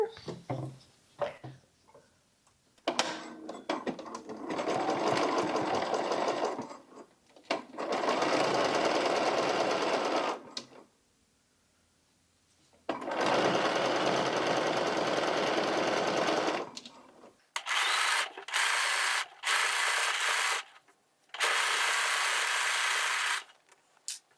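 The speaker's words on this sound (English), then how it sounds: "we're going to sew this outer edge on our 1/2 inch line" A sewing machine stitches the outer edge of a 1920s-style cloche hat in several loud, close bursts of rapid whirring. Each burst lasts a few seconds, with short pauses and quiet handling noises between them.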